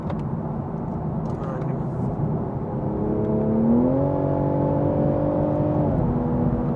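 A 2020 Toyota Supra's engine hums steadily while cornering, then rises in pitch as it pulls harder and holds a higher whirring drone, heard from inside the car with a voice talking over it.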